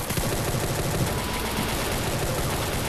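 A powerful gun in the Free Fire battle-royale game rattles in rapid, dense automatic bursts, loud and close, with no pause across the short stretch.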